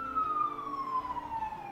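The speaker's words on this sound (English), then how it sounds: "I hope that siren's not too loud" A police car siren wails past in one long, slowly falling glide, steady and moderately loud over faint road rumble, with no one talking.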